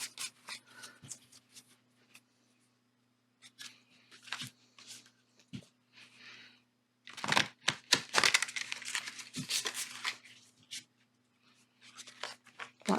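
A large tarot card deck is handled and shuffled in scattered bursts of riffling and rubbing, briefly louder in the middle and quiet between, close by with a faint steady hum beneath.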